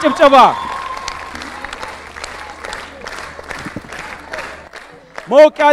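Applause rises from an audience at a student quiz competition as the winner receives a prize, a burst of clapping heard around a voice speaking over it.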